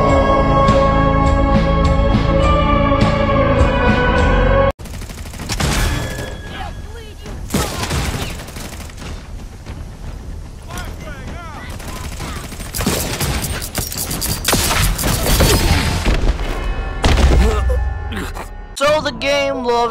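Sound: gunfire in the video game Redfall

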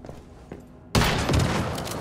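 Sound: explosion in Once Human video game

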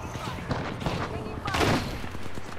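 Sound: gunfire in video game Apex Legends

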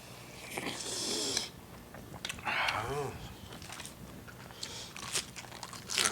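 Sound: eating fresh vegetables with bamboo shoot soup

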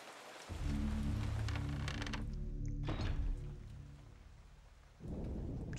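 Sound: rain and thunder in a video game

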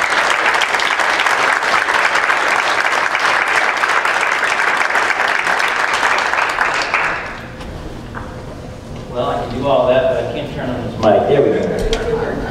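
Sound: audience applauding as speaker Barry is welcomed to stage

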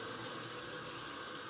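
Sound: tap water rinsing a makeup brush in the sink

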